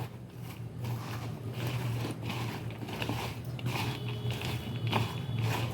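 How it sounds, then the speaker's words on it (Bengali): Eggs, red lentils, red chilli powder and mustard oil mixed together by hand in a bowl, giving close, continuous squelchy and crackly sounds over a low steady hum. "এখন আমি সব উপকরণগুলোকে খুব ভালো করে মিশিয়ে নেব"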